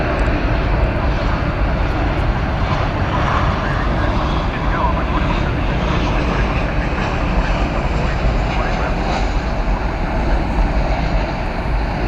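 A heavy airliner roars through a long takeoff run at DFW Airport, bound for Melbourne on a 17-hour flight after an hour's wait, its steady broadband engine rumble filling the scene, with a voice talking over it.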